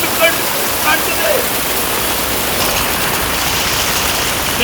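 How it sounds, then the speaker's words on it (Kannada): Water pours steadily off the roof of a municipal office building in a dense, continuous rush like a small waterfall, loud and close throughout. "ಮೇಲಿಂದ ಬರುವ ನೀರು"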